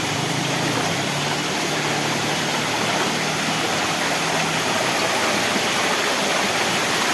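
A waterfall and river pour in a steady, loud, broadband rush that holds constant throughout, with no voices.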